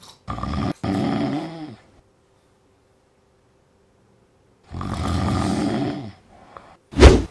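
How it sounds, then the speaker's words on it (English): A sleeping person snores in two long, loud, rasping breaths separated by several seconds of silence, followed by a short sharp burst at the end. "The one that snores all the time."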